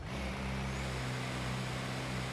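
An upgraded Mini in Forza Horizon 4, tuned for over 200 mph, pulling in sixth gear from a low-speed start: a loud, steady engine drone with a rising tonal whine and no talking.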